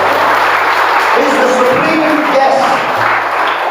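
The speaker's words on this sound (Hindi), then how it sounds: "सो आइए इस अगापे प्रेम के लिए हम जोर से ताली बजाएं" A congregation at Nagaon Baptist Church applauds loudly, dense clapping close by with a voice heard faintly underneath.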